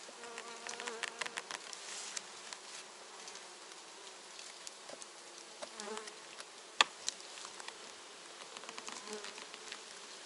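Dense buzzing of many honey bees at an open hive fills the air close around, a steady droning swarm with individual insects zipping past the microphone.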